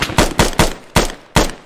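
A rapid series of six loud gunshots in quick succession in the video game Arma 3, sharp and close, with no voices.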